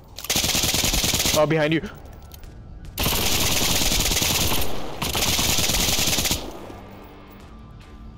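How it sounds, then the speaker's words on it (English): Rapid automatic gunfire in the shooter game SCP: 5K, loud and close in long sustained bursts separated by brief pauses, with a short spoken remark between bursts. "That gun is fun, but has a lot of spread."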